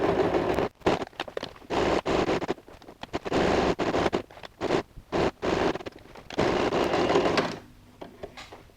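A sewing machine stitches a zipper pocket onto a bag in short bursts of fast, buzzing stitching with sharp gaps between them, close and loud, then falls quiet near the end.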